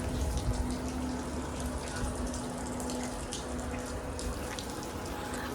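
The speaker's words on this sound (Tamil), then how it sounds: "மழை வந்துச்சுல்ல, ஸோ அது வந்து அப்படியே ஊற்றிட்டே இருக்குது" Rainwater pours and splashes continuously inside the Elephanta Caves near Mumbai, a close, steady trickling gush with a faint hum underneath.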